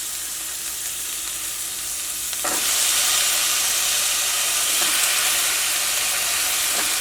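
Cut carrot and potato hit a pan of sautéed onion, and the steady hiss jumps to a louder, brighter sizzle that keeps going, with a few soft stirring scrapes and no talking.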